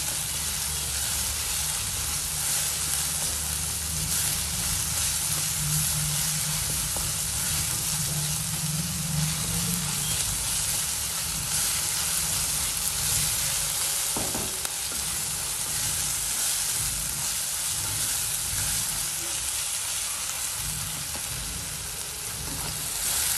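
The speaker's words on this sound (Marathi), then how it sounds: "परत छान परतून घेऊया" Spiced okra (bhindi) masala with ginger-garlic paste sautéing in a pan, a dense, continuous close sizzle and hiss with faint occasional stirring scrapes throughout.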